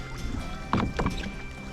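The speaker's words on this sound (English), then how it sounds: "Launching a Hobie is pretty similar to most other kayaks" A Hobie kayak being launched from shore with a paddle on a lake, with a couple of close watery splashes and knocks against the hull under a steady outdoor background.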